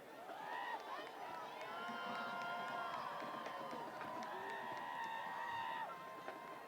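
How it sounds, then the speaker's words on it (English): A football crowd cheers and shouts for the Trojans during the B-R versus Middleboro game in 2022, a steady roar of many voices with whistles and shrill calls rising and falling for several seconds. "Trojans looking for their fans to give them a big cheer."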